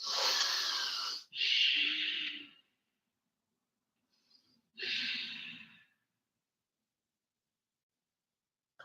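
Slow, deep breaths during a held yoga pose: three long, close airy exhalations and inhalations with a faint wheeze, separated by quiet pauses, with no talking.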